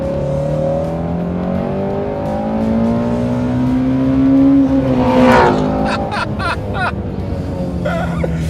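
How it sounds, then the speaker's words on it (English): A sports car engine revs hard to the red line, its rising whine climbing steadily in pitch before dropping off, followed by a few sharp throttle blips. Loud and close, with a faint voice briefly under it. "give us a rev right to the red line again, and just listen to how far it goes"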